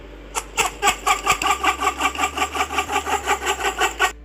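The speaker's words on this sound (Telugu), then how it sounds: "సో ఇవి డక్ సౌండ్స్ కానీ అలా ఉంటాయి అనమాట" A rapid, even series of about fifteen nasal duck quacks plays as a sound effect, loud and close, with no other voices present.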